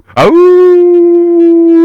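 A human voice imitates a dog, letting out one long, loud, steady howl that rises quickly and holds for over a second as a chant at a Cleveland football stadium.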